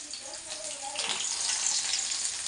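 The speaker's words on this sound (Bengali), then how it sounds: "এবারে আমি পেঁয়াজটা ছেড়ে দিচ্ছি।" Onion dropped into a hot pan for pasta sets off a sudden hissing sizzle that swells and holds steady, close and bright.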